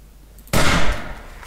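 A single loud, sharp gunshot-like burst from the video game 7 Days to Die cuts in abruptly after near silence, then decays into a fading echo.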